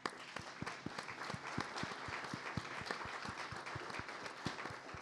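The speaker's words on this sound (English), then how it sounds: "a round of applause for you, the audience" Conference audience applauding at the end of a talk, a fairly faint, distant spread of clapping with individual sharp claps standing out in a loose, continuous patter.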